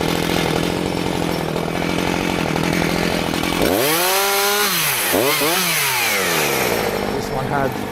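A chainsaw cuts down trees for firewood on a farm, running loud and steady, then its engine whine swoops up and down in pitch as it bites into the wood.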